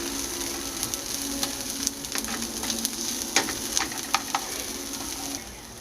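A handful of peppers spread out in a pan for pasta carbonara fry with a steady crackling sizzle, peppered with sharp pops and spits that grow busier midway before easing off.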